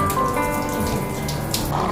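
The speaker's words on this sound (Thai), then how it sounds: "ล้างน้ำ" Tap water runs steadily while a toilet fixture is rinsed after scrubbing, a continuous close splashing and trickling with no break.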